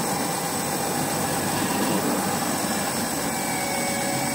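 A Snapper Ninja Hi Vac lawn mower vacuum runs close by with a loud, steady, broadband engine-and-suction roar that holds unchanged throughout.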